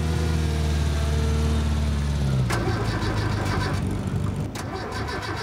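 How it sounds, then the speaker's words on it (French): A car, a Renault 4L on a desert rally, cranks repeatedly without catching, the starter whirring steadily then giving way to rattling, sputtering bursts; loud and close, with no talk. "on n'arrive pas à démarrer la voiture"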